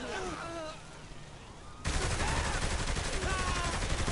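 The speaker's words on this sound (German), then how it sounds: "Jetzt schießt ihr immer noch auf mich" Rapid gunfire in Saints Row: The Third crackles in a dense fusillade, quieter at first under game sounds, then jumping to a louder sustained barrage of overlapping shots.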